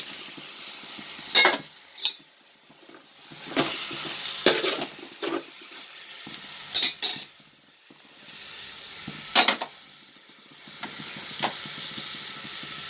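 Ginger garlic paste and tomato sizzle and fry in a pot for mutton biryani, a steady close hiss broken by repeated scraping stirs of a spoon against the pan.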